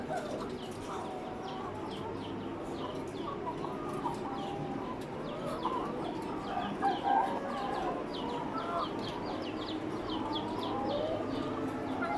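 Young chickens in a poultry house give soft, overlapping clucks and peeps amid a steady low hum of ambient noise, fairly faint and continuous.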